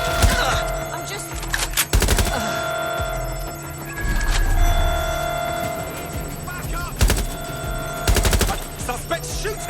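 Gunfire in Watch Dogs: Legion comes as sharp, loud bursts of automatic shots in clusters, separated by pauses filled with steady electronic tones and background game sound.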